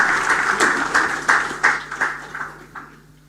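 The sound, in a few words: audience applause welcoming a speaker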